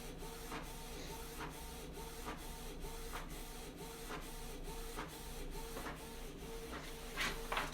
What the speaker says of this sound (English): So this is printing.